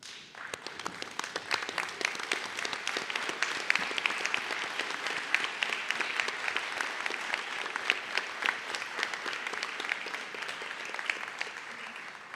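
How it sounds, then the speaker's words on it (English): Audience at a Sydney university graduation ceremony applauding, a dense, even wash of many hands clapping that holds steady for the whole stretch. "I now invite graduates to stand and turn and express your gratitude to those who have supported you with a round of applause."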